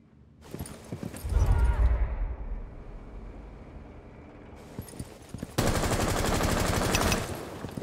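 Gunfire in the tactical shooter Rainbow Six Siege: a booming shot, then a quieter stretch, then a sustained rapid burst of automatic fire near the end, close and loud.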